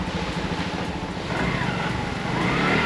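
A car engine in a tight parking spot in Sri Lanka revs steadily, its low rumble rising and swelling toward the end, close and fairly loud with a broad noisy wash over it.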